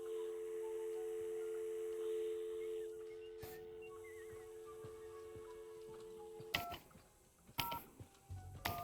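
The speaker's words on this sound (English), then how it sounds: "Hey, a phone. How convenient." A telephone is dialed in a VR video game: a short run of electronic tones and clicks near the end, after a steady humming drone fades out.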